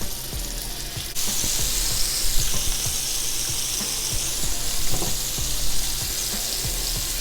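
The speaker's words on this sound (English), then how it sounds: "we're gonna go ahead and start cooking these boys off" Steak bites hit a pan on medium-high heat, and a loud, steady sizzle starts abruptly and continues with crackling pops close by.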